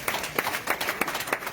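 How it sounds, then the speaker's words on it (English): Audience at a fundraising event in the United States applauding, a short burst of scattered clapping with uneven hand claps. "Give him a big round of applause"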